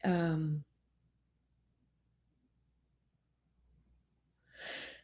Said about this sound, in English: Here comes the yawning.